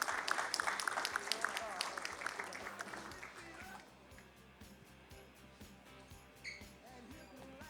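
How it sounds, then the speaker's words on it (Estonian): Applause from an audience at a combat sports gala press conference, a burst of clapping that fades out after a few seconds, with a voice speaking over it and sparse claps lingering afterward. "Teeme aplausi."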